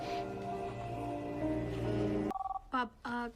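A telephone rings in a tonal electronic pattern, with short repeated ring bursts following a stretch of louder background sound, heard up close and fairly clear.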